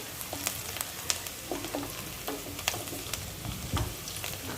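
Kashmiri and hot red chilies frying in oil, a close, dense crackling sizzle with frequent small pops and the odd scrape of a spoon, with no talking.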